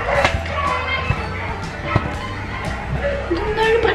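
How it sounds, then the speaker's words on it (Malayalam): Dogs barking at a home in Kerala, short sharp yaps scattered through the clip, partly under someone talking and household noise. "അവിടെ എല്ലാം എല്ലാ പട്ടികളും കൂടി കുറയ്ക്കുന്നുണ്ട്"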